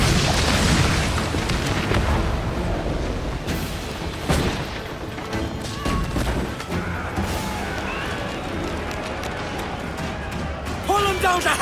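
Naval cannon fire and explosions in the video game Assassin's Creed Black Flag, heavy booms and blasts rolling over a noisy sea battle, with shouted orders from the crew throughout.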